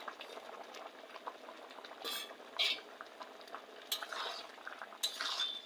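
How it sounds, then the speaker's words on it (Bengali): Goat meat curry simmering in a pot, soft bubbling under occasional clinks and scrapes of a spoon stirring against metal, close but quiet. "তরকারিটা জাল উঠে গেছে, এবার মিল মেকার দিয়ে দেবো"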